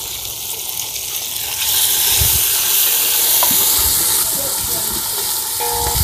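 Tomatoes dropped into a hot oil tempering for a Samvedi Brahmin-style peanut amti give a steady, close frying sizzle that swells louder after a couple of seconds and holds, with no talking.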